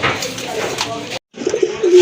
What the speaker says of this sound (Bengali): দেখেন ডাক দেখেন, কবুতর ডাক দেখে কিন্তু আপনারা পাগল হয়ে যাবেন